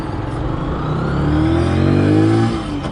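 A Zontes G1 125 scrambler motorcycle engine drones loudly while riding, its pitch climbing steadily as it revs up through a gear, close and alone.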